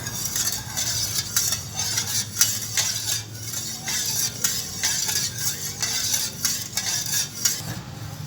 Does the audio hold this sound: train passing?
no